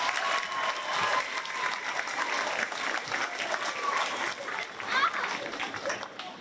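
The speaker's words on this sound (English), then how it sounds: "How about a round of applause for her?" Sustained applause from an audience at an elementary school graduation ceremony, a dense, steady patter of clapping that continues evenly throughout, with faint voices from the crowd mixed underneath.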